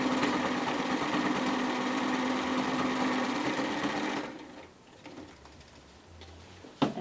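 A sewing machine runs in a fast, steady ticking whir while flat-stitching a bomber jacket made from Simplicity pattern 8418, then stops partway through, leaving quiet room sound and a faint click.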